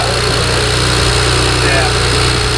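A BMW N54 engine idling with loud ticking injectors, a dense steady mechanical clatter with a fast rhythmic tick, close and loud, while people talk over it.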